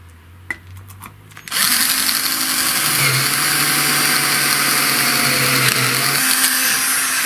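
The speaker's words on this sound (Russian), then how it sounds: "берем сверло потолще и расширяем дырку" After a few faint clicks, a power drill starts up and whines steadily as a thicker bit widens an 8 mm hole, its pitch shifting slightly, then continues loudly.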